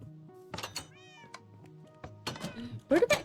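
A cat meows in a video game: several short, close meows arrive in bursts, mixed with soft in-game thunks and knocks.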